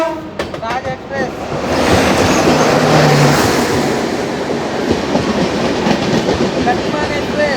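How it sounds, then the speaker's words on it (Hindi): Taj Express rushing past on an adjacent Indian railway line during a crossing, a loud, sustained roar of wheels and clattering carriages with rhythmic clickety-clack close by. "कोई ट्रेन से क्रॉसिंग हो रही है। ताज एक्सप्रेस।"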